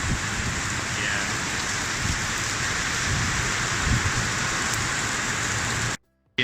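Heavy rain shower pouring down in Singapore, a steady dense hiss of rainfall close to the microphone that holds throughout, then cuts out abruptly near the end.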